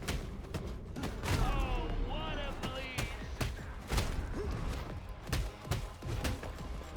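Sidearm gunshots in the action roguelike KIBORG fire in sharp, repeated bursts amid game music and impact noise, with a voice talking over parts of the action.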